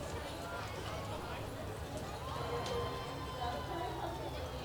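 Horse hooves clip-clop along the street in a town holiday parade, a horse from a Morgan horse farm passing amid steady crowd noise and commentary talk, the hoofbeats faint and partly buried.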